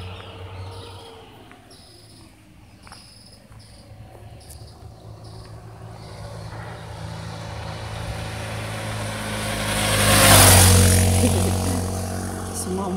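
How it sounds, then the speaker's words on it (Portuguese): A motorcycle travels a road beside a coffee plantation in Antônia, swelling gradually from a distant drone to a loud close pass and then fading, with insects chirping faintly underneath. "Moto ali."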